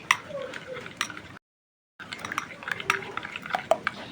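A spoon stirs besan laddoo mixture after a pinch of food colour is added, giving soft scrapes and light clinks against the pan that break off briefly and then resume.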